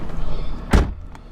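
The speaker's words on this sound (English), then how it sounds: "Close the door." The door of a 2010 Ford Fusion SE closes with a single solid thunk, close by, followed by a faint rattle and quiet cabin hum.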